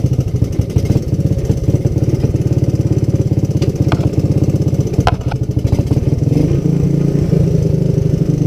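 A Honda ATC200S three-wheeler engine idles loud and close, with a steady, uneven thumping pulse and metallic clatter because gas is leaking by.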